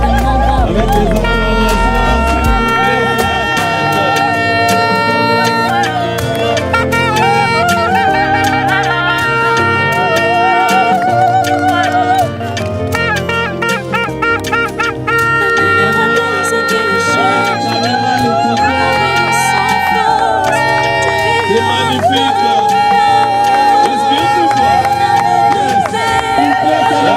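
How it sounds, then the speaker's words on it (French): Wedding guests cheer at a Belgian-Congolese religious wedding ceremony, a loud sustained crowd roar with shouts rising over music throughout, with a brief dip midway before the cheering swells again. "Avec des acclamations, s'il vous plaît"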